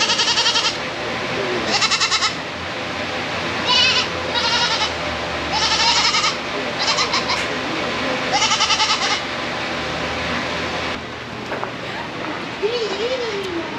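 Dwarf goats at the 2023 Gold Country Fair bleat in repeated loud, quavering calls at close range, several overlapping in bursts, over a steady fairground murmur.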